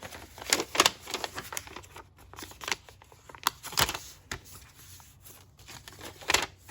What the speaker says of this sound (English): So now all of our corners are going to fold up to the center point